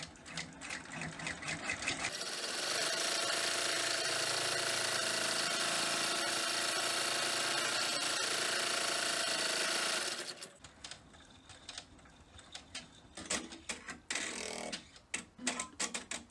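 A sewing machine running a finishing bean stitch on a hand sanitizer case, whirring steadily and fairly loud for about eight seconds, then stopping and giving way to quieter handling noises.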